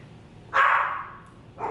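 A single loud, drawn-out dog bark close by, followed shortly by the start of a second bark.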